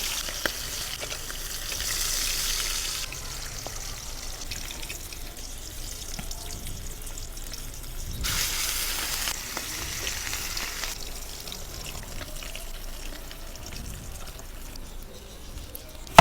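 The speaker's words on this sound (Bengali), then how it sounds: "তারপর কড়াইতে সর্ষের তেল দিয়ে 1 মিনিট করে এপিট ওপিট ভেজে নিন" Fish pieces fry in mustard oil in a wok, turned over after about a minute per side while being cooked lightly for doi maach. A soft, continuous sizzle swells into louder hissing bursts now and then.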